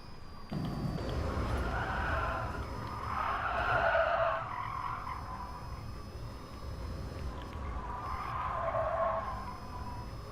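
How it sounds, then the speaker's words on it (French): Tires squeal in two swelling bursts over a steady engine drone in Gran Turismo Sport, fairly faint and distant-sounding, with no talking. "Parce qu'on entend les bruits des pneus."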